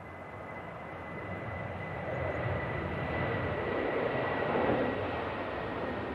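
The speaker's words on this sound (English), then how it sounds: "Have you ever seen a Jet 2 737 rotate so early?" Jet2 Boeing 737 taking off at Manchester Airport on a windy day, a broad steady engine roar that swells slightly and holds, heard from a distance with wind noise and no talk.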